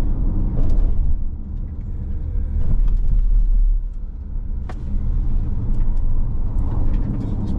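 Jaecoo J5 EV electric car pulling away hard in sport mode, a steady low rolling road rumble with tyre and drivetrain noise that rises and swells, heard from inside the cabin with no talk.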